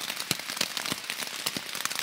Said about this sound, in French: Mais là, il pleut.